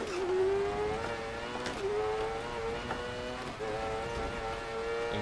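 A rally car in DiRT Rally 2.0 drives a stage on wet mud, its engine revving loudly and steadily while pitch drops sharply at several gear changes, with no voices.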